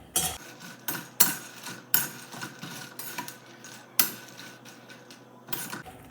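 Makhana is tossed while it roasts in a kadai, producing quiet, intermittent metallic clatters and scrapes, with a few sharper clanks standing out between softer rattling stirs.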